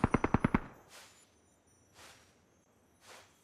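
Rapid automatic gunfire in the video game PUBG, a tight burst of about six shots up front followed by three fainter, distant single reports spaced about a second apart.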